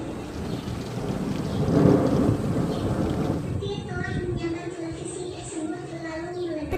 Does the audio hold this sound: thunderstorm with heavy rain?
yes